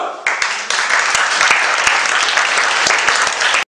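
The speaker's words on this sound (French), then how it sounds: "On va les applaudir tous les deux." Audience at a Christmas martial arts demonstration party clapping loudly and continuously, the applause swelling after a brief start and then cutting off abruptly.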